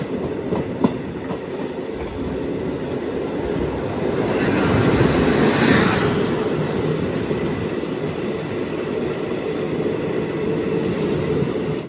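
A train pulls into Anandapuram station on the single-line Talguppa–Shivamogga route, its steady rumble and wheel clatter building louder mid-way and then holding, with no voices.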